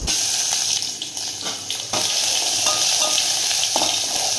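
Mustard seeds, cumin and ginger frying in oil for a soup base, a steady, fairly loud hissing sizzle with occasional light stirring taps, close and without voices.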